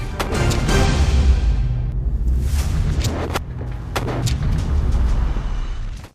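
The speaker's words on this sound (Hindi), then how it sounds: "स्नाइपर गोली चलाता है और फिर काम तमाम हो जाता है" Several sharp sniper rifle shots crack over a loud, rumbling background, with sudden broadband bursts spaced irregularly across the clip.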